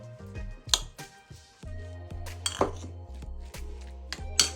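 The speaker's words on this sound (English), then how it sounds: "add some mayonnaise. And then mix it nicely" Egg filling being stirred with mayonnaise in a bowl for an egg and mayo sandwich: a close run of utensil scrapes and sharp clinks against the bowl, irregular and steady, with no talk.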